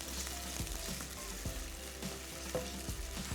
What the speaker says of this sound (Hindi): फ्राई कर लेना है अदरक और लहसुन में